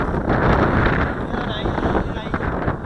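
Strong wind buffets the microphone on a windy day at a model aircraft flying field, a steady loud roar and rumble throughout with no clear voices.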